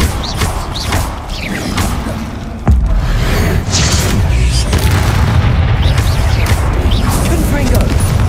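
A Bombarda blasting spell explodes in the Hogwarts Legacy video game, a deep booming thud that hits suddenly partway through and rumbles on under continuous game noise and speech.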